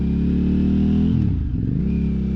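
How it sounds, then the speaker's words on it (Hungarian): A motorcycle with a very sensitive throttle revs, its steady mid-pitched engine drone dipping and wavering about halfway through before settling back to a constant loud idle hum. "Olyan érzékeny a gázkar rajta, éppen hogy csak hozzáérek, aztán már"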